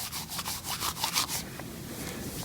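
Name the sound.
wooden dowel pieces rolled around in the hand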